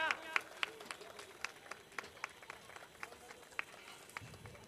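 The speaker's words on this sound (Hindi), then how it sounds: "तालियां बजती रहनी चाहिए।" Quiet, rhythmic clapping from an audience at a live magic demonstration, individual claps spaced evenly and heard faintly under a murmur of voices.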